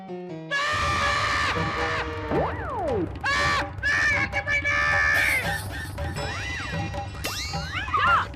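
Jethalal screams in fear of an injection, a loud, wavering, drawn-out yell with rising and falling pitch swoops, broken up by short gaps and shouts at close range.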